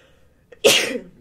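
One sharp, close human sneeze, preceded by a brief catch of breath and followed by a short fading exhale, in an otherwise quiet room during a family movie-watching session.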